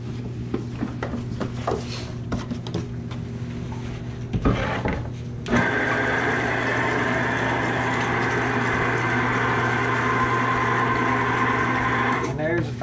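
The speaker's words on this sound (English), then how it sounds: "Now it's grinder time." An electric meat grinder runs steadily, grinding venison for breakfast sausage in a meat market, its motor hum loud and continuous after a brief clatter, with occasional talk under it.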